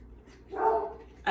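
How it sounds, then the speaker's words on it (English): A dog barks a couple of times nearby, a short burst in a quiet kitchen, with one more sharp bark cutting in at the end. "That's my dog."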